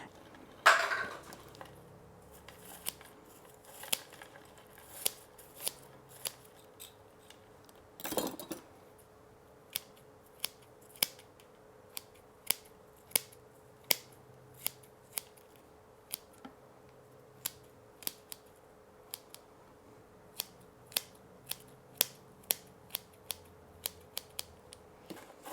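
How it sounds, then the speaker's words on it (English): Bonsai scissors snip through the roots of a small cascading juniper. The crisp clicks come one at a time, sharp and close, at irregular intervals over a quiet background with a faint steady hum. "Basically, I'm going to have to cut off 3/4 of the roots to even get close."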